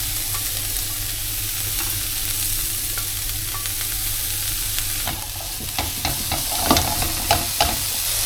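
Bell peppers and cabbage stir-fry in a hot pan for Thai yellow curry, giving a steady close sizzle with a spatula scraping and clacking against the pan toward the end; nobody speaks.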